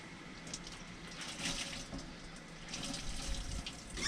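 Water runs steadily from a tap into a sink in a household, a continuous close splashing stream with no one talking.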